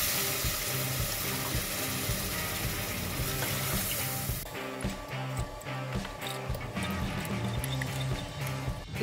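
Water pours steadily onto rice in a pressure cooker, a continuous splashing rush that stops abruptly midway and gives way to quieter kitchen sounds.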